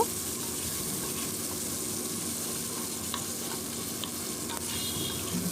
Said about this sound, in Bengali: কড়াতে যে অবশিষ্ট তেলটা আছে তার মধ্যে আমি দিয়ে দিচ্ছি পেঁয়াজ কুচানো